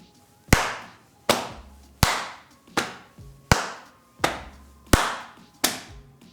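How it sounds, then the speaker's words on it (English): Eight evenly spaced sharp percussive hits alternate between hand claps and pats on the thighs in a steady two-beat pulse, close and clear with no talking. "Let's try and clap together on beat 1 and pat our thighs on beat 2."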